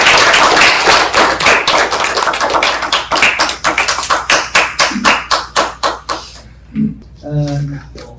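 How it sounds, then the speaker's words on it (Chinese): An audience in a lecture hall applauds to welcome a speaker, loud dense clapping that slows into separate claps and fades, after which a voice begins talking. "那现在就让我们用掌声欢迎苏老师来带给我们他的演"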